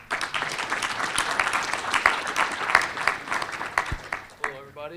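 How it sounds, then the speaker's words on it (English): An audience at a pitch competition breaks into sustained applause and scattered cheers, loud and steady before tapering off, with a voice starting to speak at the very end. "A round of applause for Limitless NAL."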